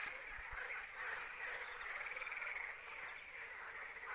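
Frogs croak steadily outdoors in spring, a dense, continuous chorus of many calls at a moderate distance with no voices over it.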